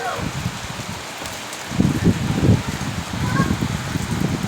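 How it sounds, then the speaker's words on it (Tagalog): Heavy rain pours in Kuwait, a dense hiss that swells partway through, while someone talks over it. "So, ang lakas ng ulan."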